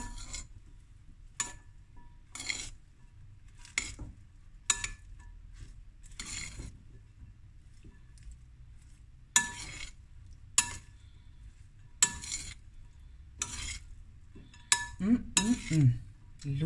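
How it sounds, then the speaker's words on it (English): A spoon clinks and scrapes against a bowl while stirring a brown rice salad with dragon fruit, giving close, irregular taps separated by quiet gaps, with a quick flurry of scraping near the end. "Give it a stir."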